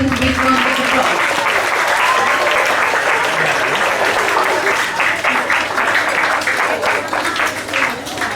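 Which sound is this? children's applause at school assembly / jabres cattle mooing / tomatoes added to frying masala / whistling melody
children's applause at school assembly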